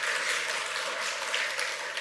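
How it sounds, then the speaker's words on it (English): Conference audience applauding at the opening of a talk, a steady broadband wash of clapping throughout with no voices over it. "Yeah, we can do applause, that's fine."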